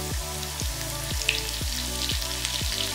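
Curry leaves hit hot oil with garlic already browning in the pan, giving a steady sizzle over medium heat with a repeating low rhythmic thump running beneath it, close and fairly loud with no talking.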